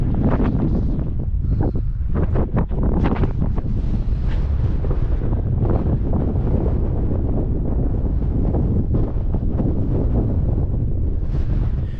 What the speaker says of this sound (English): a very windy day today